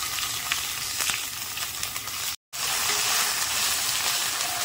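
Bay leaf, radhuni seeds and ginger paste sizzle in hot oil, a close, steady hiss with small crackles and a brief break midway, no talking over it.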